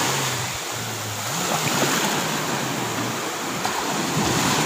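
Rough sea surf washes in a steady broad roar at low tide during bad monsoon weather, with wind buffeting the microphone and a faint low engine drone.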